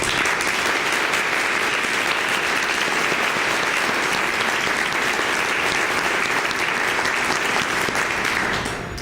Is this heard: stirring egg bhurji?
no